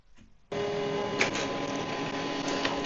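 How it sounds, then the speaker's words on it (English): An HP LaserJet M140w printer starts a copy job with a sudden switch-on, then a steady close mechanical whir and hum carrying faint clicks and feed rattles, with no voices. "Your document will be copied."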